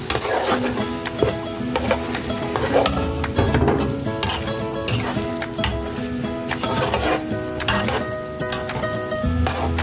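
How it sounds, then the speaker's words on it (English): Spinach and mushroom soup is stirred in a pot with continuous scraping and a sizzling bubble, while faint tonal music plays underneath. "And stir."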